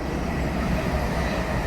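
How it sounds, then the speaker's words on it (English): A train passes at close range, a steady dense rumble of wheels and cars on the rails that holds evenly loud throughout with no voices over it. "3 trains in one video."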